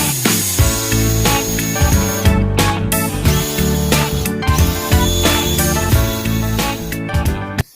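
Power drill boring a hole into a concrete wall, loud and close, with a steady grinding whine broken by repeated short bursts as the bit bites and pauses.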